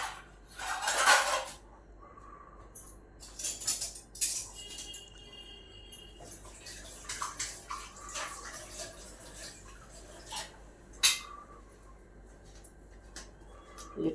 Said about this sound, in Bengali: ডালটা একটা বাটিতে দিই